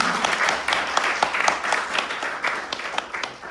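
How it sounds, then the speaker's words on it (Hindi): Enthusiastic applause for children from an audience at a poetry show in Allum Manor Hall, Borehamwood, a dense crowd of claps that holds steady at moderate volume and fades slightly near the end. "इन बच्चों के लिए जोरदार तालियां होनी चाहिए।"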